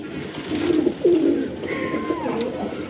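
Andhra pigeons coo in soft, throaty rolling calls close by, a couple of distinct phrases over a low background hum with no talk.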